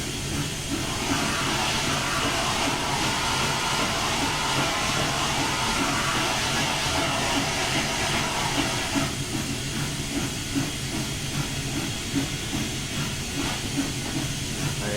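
Cylinder cocks on steam locomotive 844 vent in a loud, continuous close hiss and roar of escaping steam with rough rhythmic chuffing texture throughout, with no voices over it.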